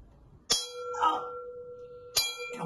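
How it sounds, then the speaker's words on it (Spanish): Two bright metallic bell strikes about a second and a half apart, each ringing out with a sustained tone. "¡Campanas!"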